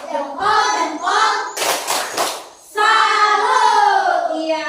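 A classroom of pupils in a Catholic religion lesson gives a short, loud salute clap, a dense burst of hands clapping together between stretches of chanted, sing-song children's voices.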